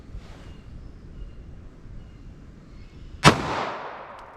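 A single sharp report from a .380 or .32 ACP pocket pistol fired with hot ammunition, loud and close, followed by a short decaying echo after a quiet stretch of outdoor background.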